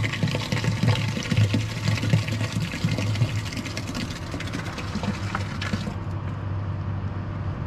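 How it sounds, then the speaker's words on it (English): Slurry mix poured down a pipe, a steady gurgling liquid pour over a low machine hum that cuts off abruptly near the end. "You mix it up like a slurry, it'll run down that pipe a long ways."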